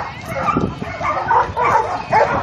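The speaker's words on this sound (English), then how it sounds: "with all the people around, all the other dogs barking, the music playing" Several dogs bark and yip in bursts on a crowded dock beside a pool, with people talking and music playing in the background.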